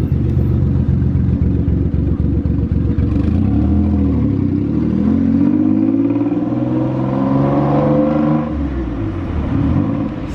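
A Maserati driving through Monaco streets, a loud, close, deep engine rumble that rises and falls in pitch as it accelerates and passes, continuous for about ten seconds.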